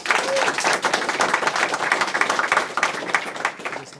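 Audience applause at a Darshan Room debate event, a dense steady wash of many hands clapping together for about four seconds with no talking over it.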